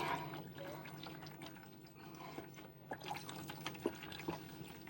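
Water poured from a bottle to rinse hair inside a van in the cold, soft trickling and splashing with a few distinct drips and spatters toward the end, close and quiet.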